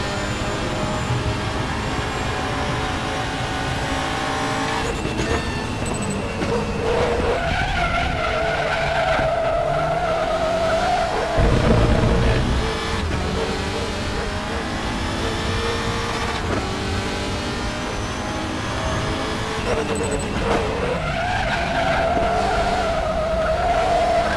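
WTCR touring cars race around the Hungaroring in RaceRoom, with engines droning and shifting pitch throughout, repeated tyre squeals and skids, and a loud surge partway through.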